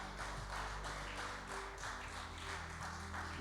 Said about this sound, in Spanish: Denle un gran aplauso al Señor Jesús.